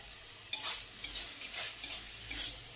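Vegetables, carrot and potato among them, fry with garam masala in a pan while a spoon stirs them, making a steady soft sizzle with scraping strokes that recur about every half second. No one speaks.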